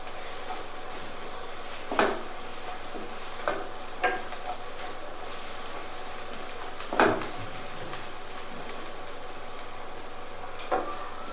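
Goat leg soup being stirred in a pan with a few scattered utensil scrapes and knocks over a steady low sizzle, close and fairly quiet, no voices.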